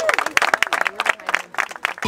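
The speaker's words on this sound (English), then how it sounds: "Let's give a round of applause." Audience applause at a talk by an Olympic beach volleyball player: dense, close clapping from a crowd with voices mixed in, steady through the whole stretch.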